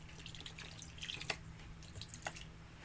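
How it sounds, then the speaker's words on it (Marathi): A small splash of water is added to chicken frying in a pan, giving a few faint drips and patters over a low background hiss, brief and close. "थोडंसं आता पाणी ॲड करून घेते मी"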